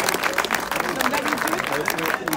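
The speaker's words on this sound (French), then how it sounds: "On peut applaudir." A crowd at a campaign launch rally for deputy Alain Ramadier in Aulnay-sous-Bois claps in a dense, continuous burst, with voices talking over the applause.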